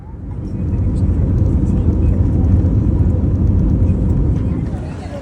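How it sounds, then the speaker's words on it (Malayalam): A steady, heavy low roar of airplane engines fills the cabin, swelling slightly and holding constant as the aircraft comes in to land in the Maldives. "so flight land ചെയ്യാറായി"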